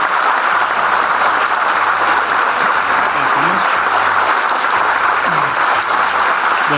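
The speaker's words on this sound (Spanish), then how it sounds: "Otro aplauso, por favor." Loud, steady audience applause at a public cultural talk in Buenos Aires, a dense continuous roar of clapping with faint voices murmuring underneath.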